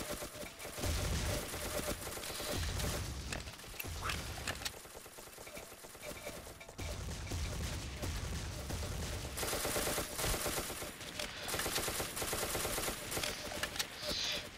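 Continuous gunfire in the blocky shooter Ace of Spades, with rapid overlapping shots and bursts running throughout at a steady, busy level, while a voice talks faintly now and then.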